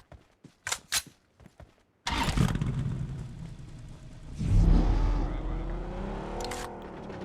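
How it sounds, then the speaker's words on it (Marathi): A car engine starts and then revs, rising in a loud burst of rumbling with rising and falling pitch swells, after a few sharp clicks and knocks earlier on. The engine carries on at close range. "चल आपण या गाडीने जाऊ."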